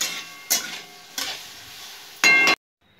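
Spatula scraping and stirring in two kadhai pans cooking side by side on a gas stove, a few sharp scraping strokes over a soft steady sizzle, close by and with no talking.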